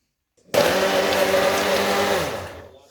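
A kitchen blender whirs steadily for about two seconds, loud and close, blending peeled, finely chopped nectarine into a smoothie. It starts abruptly and then winds down at the end.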